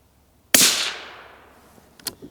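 A single 17 HMR shot from a suppressed Ruger Precision Rimfire rifle, a sharp supersonic crack with a fading tail, followed by a couple of quick mechanical clicks.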